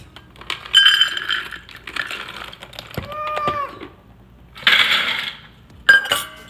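Raw cashews poured into measuring cups, several rattling bursts of hard nuts clattering into a cup, separated by pauses, with bright clinks and a final short spill.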